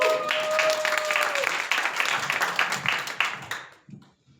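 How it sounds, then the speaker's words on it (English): Audience applause fills a speaking event on resilience, a dense patter of clapping that builds quickly and fades out over about four seconds. "Give me a round of applause."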